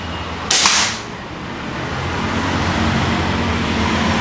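One sharp, brief crack of a Daystate air rifle shot, followed by steady traffic noise.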